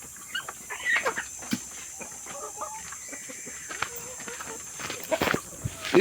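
Laying hens of mixed breeds, including Rhode Island Red and Black Australorp, clucking on a farm in short scattered bursts, with footsteps and someone talking over them.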